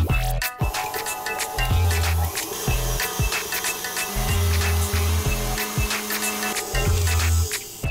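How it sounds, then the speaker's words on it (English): An electric hand mixer creams soft butter in a mixing bowl, its steady motor whirr running throughout with rhythmic scraping bursts as the beaters work the butter, loud and close with no talk. "Soft butter going into the mixing bowl. Let's start out by creaming the butter."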